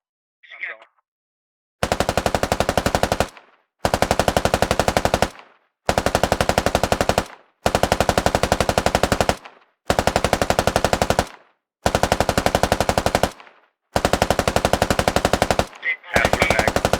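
M240 machine guns in the military shooter game Squad roar in long sustained bursts, about eight of them separated by short pauses, loud and close, from a sandbag line.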